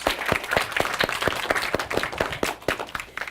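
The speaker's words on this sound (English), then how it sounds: "Big round of applause for yourselves" Scattered clapping from a small audience at an elementary derby match event, individual claps distinct and fairly close, moderately quiet and ongoing for a few seconds.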